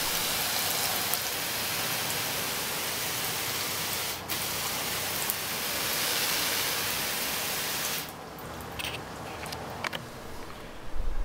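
An IK sprayer with a fan nozzle sprays water onto a panel in a steady, loud hiss of fine spray. The spray holds almost unbroken, then eases near the end into a few soft drips and clicks.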